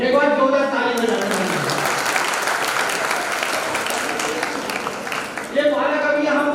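Audience clapping at a poetry gathering in a Jain temple in Bhopal, a thick burst of applause swelling in the middle, with a voice heard before it begins and again as it dies away.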